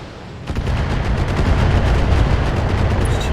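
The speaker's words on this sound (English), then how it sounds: "Oh, it must be those LRM launchers." LRM missile launchers in the mech strategy game BattleTech fire a rapid salvo, the volley starting abruptly and rolling on as a dense, loud stream of repeated launches and impacts.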